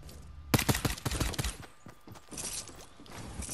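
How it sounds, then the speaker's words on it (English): Rapid bursts of automatic gunfire in Fortnite, including an assault rifle, crackle loudly in quick clusters and then trail off into scattered, fainter shots with no talking. "Who's shooting that?"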